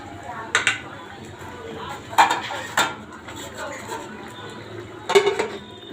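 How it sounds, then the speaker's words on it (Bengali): A metal lid is set on a cooking pot of fish heads and potatoes, giving a few sharp, close clanks and clinks spaced over several seconds against a quiet kitchen background. "এবার ঢাকনা দিয়ে রাখবো"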